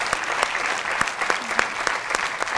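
A gala audience applauds Goga, dense continuous clapping from a crowd at moderate distance with no voices rising above it.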